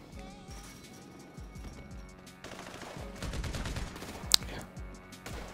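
Bursts of MG submachine gun fire in GTA Online, with a cluster of shots and one sharp crack standing out over busy game sound while a voice talks.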